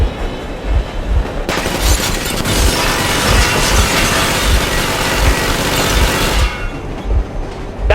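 A train engine runs in a winter level of the video game Metro Exodus, a loud, steady rumble with rhythmic low thumps and a harsh, noisy roar swelling in the middle.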